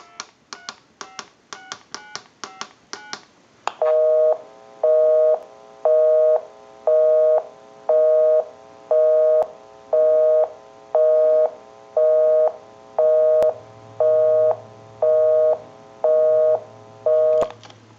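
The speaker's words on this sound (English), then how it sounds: "We'll call my number and it'll be busy" A TA954 military field telephone dialing a number with a quick burst of tones, then a loud busy signal pulsing in even on-off beeps, with a faint low hum joining later.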